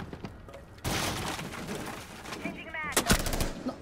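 Gunfire in the Rainbow Six Siege video game comes as a sustained burst of rapid shots followed by a few sharper individual cracks near the end, with players' voices talking over it.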